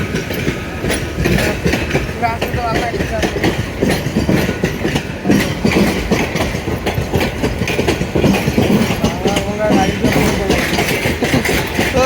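A train engine hauls a long string of around fifty old railway wagons, its steady rumble and clickety-clack of wheels continuous and close throughout, with voices talking faintly over it.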